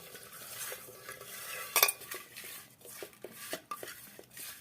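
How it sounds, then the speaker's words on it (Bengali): Pepper powder, salt, chilli powder and sauce being mixed together by hand or spoon, giving soft wet squelching and scraping with a few sharper clinks, close and alone. "গোলমরিচের গুঁড়ো, সস, এবার সব একসঙ্গে মাখিয়ে নিচ্ছি।"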